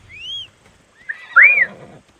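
A horse in the video game Assassin's Creed Odyssey answers a call with a short, rising-and-falling whinny, preceded by a softer snort-like squeal, heard clearly with no talking.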